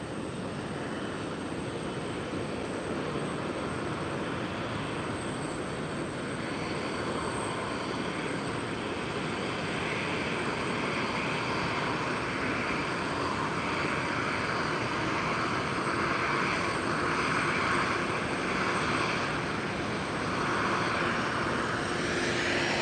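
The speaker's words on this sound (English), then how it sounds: "Here's a WestJet 737-700." A WestJet Boeing 737-700 taking off, a loud continuous jet engine roar that holds steady and swells slightly toward the end, heard from outside at the airport.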